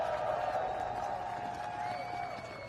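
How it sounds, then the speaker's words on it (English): An audience applauds and cheers for Charlotte Pence Bond at a Make America Great Again rally in Latrobe, Pennsylvania, a steady wash of crowd clapping and cheering that holds at an even level and tapers slightly near the end. "Would you give her a big round of applause?"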